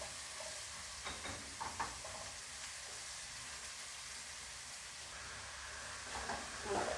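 Onion sizzling as it fries in a pan during the cooking of a roast chicken dish, a steady, fairly soft hiss with occasional stirring clatters and quiet talk.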